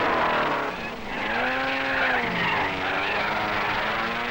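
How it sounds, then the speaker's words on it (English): Ferrari race cars at the 1961 Monaco Grand Prix scream past close by, engine pitch sweeping up and down as they run nose to tail, loud and without talk. "Hill and Ginther in Ferraris running nose to tail chase after Moss."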